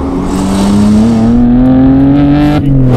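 Nissan Skyline GT-T engine droning steadily and slowly climbing in pitch under load, loud and close, with a brief dip near the end and no voices.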